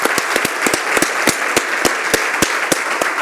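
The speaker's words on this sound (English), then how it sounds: "Please give them a round of applause." Applause at a sustainable business conference in Saudi Arabia, a close, fairly loud field of clapping with distinct individual claps standing out in a steady patter.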